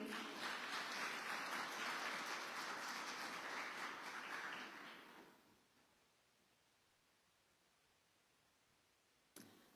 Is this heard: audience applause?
yes